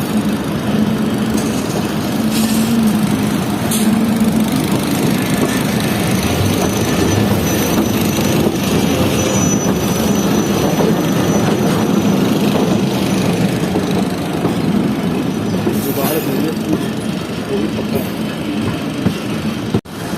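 A Fareed Express passenger train travelling from Lahore to Karachi runs on the rails with a loud, continuous, close rumble and faint wheel squeals throughout.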